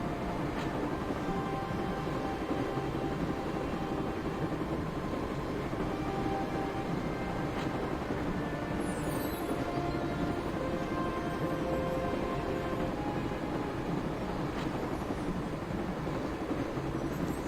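A train rumbles along in the Broken Sword video game, a continuous loud rolling drone with rattling and occasional metallic squeals and clanks, no voices.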